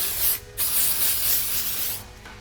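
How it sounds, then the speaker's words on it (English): Hairspray-style texture spray misted onto freshly styled hair after velcro rollers, two close, steady hissing bursts, the first short and the second longer, with quiet pauses between. "just spray a little texture spray to give it a little hold"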